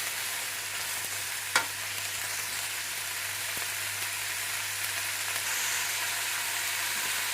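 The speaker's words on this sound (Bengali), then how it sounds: "লাল এবং সবুজ ক্যাপসিকাম এবং গ্রিন অনিয়ন দিয়ে আমরা একটু মানে একটু ভেজিটেবলের পরিমাণ বাড়লো টোটাল, নিয়ে আমরা এটাকে স্টির ফ্রাই করে নেব" Beef stir-frying with red and green capsicum and green onion gives a steady, close sizzle with one sharp utensil clack early on, then continuous frying hiss with no voices.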